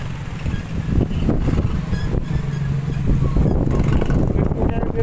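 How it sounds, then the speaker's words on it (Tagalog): Strong wind buffets the microphone along a seaside boulevard, a steady low rumble with gusts that surge and ease throughout, alone with no clear talk. "malakas talaga ang hangin"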